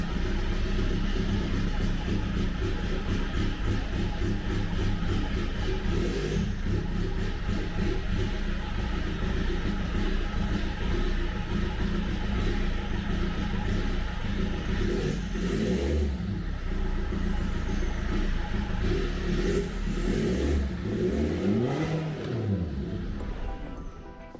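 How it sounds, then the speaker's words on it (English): A BMW E90's engine with faulty fuel injectors runs steadily throughout, with a rough, uneven idle and occasional revs rising and falling near the end. "start the car. You'll hear what I'm talking about, or what I mean about faulty injectors soon enough."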